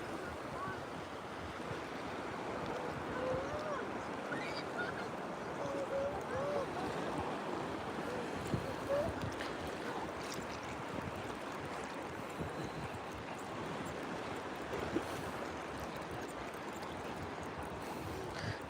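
Ocean surf washing continuously onto a beach during a fishing outing, a steady broad wash of breaking waves with gusts of wind noise and no clear talk.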